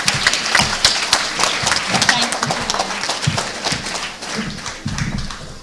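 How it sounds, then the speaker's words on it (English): A conference audience at a 2018 biennial keynote gives a loud, sustained round of applause for the deputies, dense clapping with steady rhythm over several seconds, close and full, with some voices mixed in. "we should give you a round of applause as well for your service to our movement"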